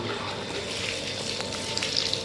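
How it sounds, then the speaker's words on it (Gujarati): Water gushes steadily from a tap at a farm home after the pump motor is switched on, a close, continuous splashing rush with no pauses. "હવે ટોટીમાં પાણી આવશે હમણાં અને પપ્પા મોટર ચાલુ કરે છે"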